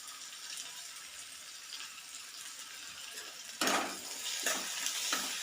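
Small onions fry in a pan for a Kerala-style onion curry, giving a steady soft sizzle, with louder bursts of stirring and scraping coming in toward the end.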